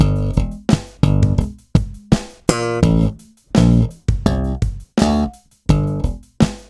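Close, solo slap bass running through a full bar of a stomp-style groove, with dense, punchy thumb slaps and popped notes in a syncopated rhythm, short and clipped with quick decays.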